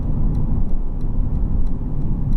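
A 2021 Mercedes-Benz GLC300 4MATIC driven in sport mode, heard from inside as a loud, steady low engine and road drone with faint regular ticking above it, no talking.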